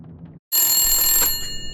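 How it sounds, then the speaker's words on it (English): Telephone ringing in The Long Dark, heard indoors in a snowbound setting: after a brief quiet gap, a loud, bright electronic-bell ring starts abruptly and sustains close by, with no talk over it. "That phone? That phone. That phone."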